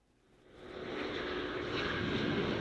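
A steady, rising roar of an evacuation flight's aircraft engines builds from quiet to a sustained, broad drone, heard with no talk over it.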